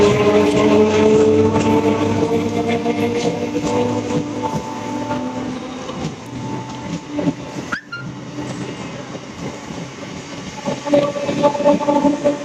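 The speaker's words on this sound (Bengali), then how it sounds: "ট্রেন এখন ছেড়ে দিয়েছে।" Train pulling out of Memari railway station in India, a loud steady rumble with tonal hum that gradually eases as the cars roll away, overlaid by a brief clack.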